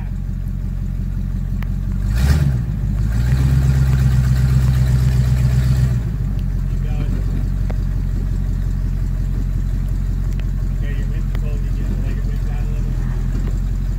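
A car engine idles steadily through the whole stretch, with a brief surge of revving early on before settling back to a low, even rumble; a voice speaks briefly near the start.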